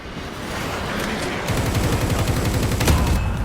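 Rapid gunfire bursts rattle through the Call of Duty Mobile shooter game, dense and continuous over a noisy background, growing louder in the second half.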